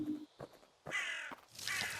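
Crow caws from the farming horror video game Pumpkin Panic, several harsh calls in short bursts across two seconds, fairly clear and moderately loud against a faint game ambience.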